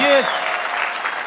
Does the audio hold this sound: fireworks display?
no